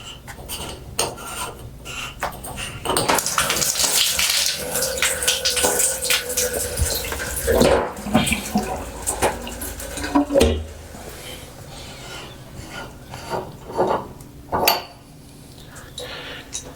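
Water running from a faucet while it is taken apart for a rebuild, splashing and scraping over metal fittings in bursts with clanks and pauses, close to the microphone.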